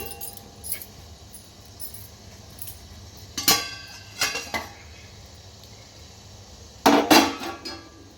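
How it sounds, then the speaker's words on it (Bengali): Metal plate used as a lid lifted off a steaming pot, giving a few sharp clinks and scrapes of metal on metal against a quiet kitchen background, with a louder rattling clatter near the end. "15 মিনিট হয়ে গেছে, আমি চাপাটা খুলে দিচ্ছি।"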